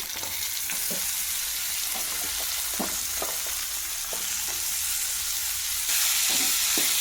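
Chopped broad beans fry in a pan with turmeric, giving a steady, loud sizzle with occasional stirring scrapes and no talk.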